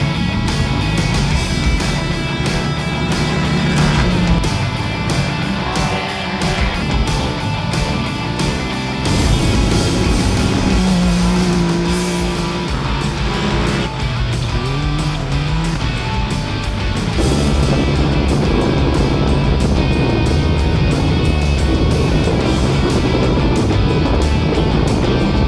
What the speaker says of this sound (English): a bit funny being back in the race car out on the motocross track with the jumps and that